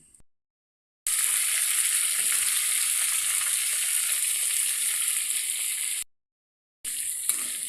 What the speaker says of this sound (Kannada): ನಂತರ ಇದಕ್ಕೆ ಟೊಮೆಟೊ, ಉಳ್ಳಾಗಡ್ಡೆ, ತೆಂಗಿನಕಾಯಿ, ಹಸಿಮೆಣಸು, ಕರಿಬೇವು, ಶುಂಠಿ ಇವಿಷ್ಟನ್ನು ಈ ಫ್ರೈ ಮಾಡಿದ್ರಲ್ಲೇ ಹಾಕಿ ಫ್ರೈ ಮಾಡಬೇಕು